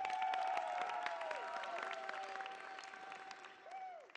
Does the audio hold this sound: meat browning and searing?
no